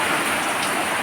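Heavy rain pours down without letup, a dense, loud, continuous hiss of drops on surfaces with no voices over it.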